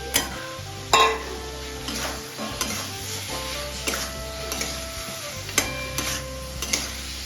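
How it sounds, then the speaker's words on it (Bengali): Fried stingray pieces go into a cooked-down spice masala, sizzling steadily while a utensil scrapes and knocks against the pan in irregular stirring strokes. "এবার মাছগুলো সব ভাজা মাছগুলো দিয়ে দিলাম"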